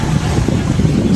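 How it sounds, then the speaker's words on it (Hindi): Sea waves washing onto the shore along the Ras Tanura Corniche at night, a steady broadband rush of surf mixed with wind noise, close and continuous with no voices. "पानी की लहरें आ रही हैं और"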